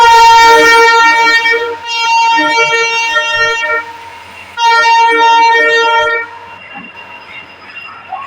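A passenger train pulls into a station, sounding loud, close horn blasts in several long bursts separated by short gaps, with the rumble of the railway cars beneath and no talking.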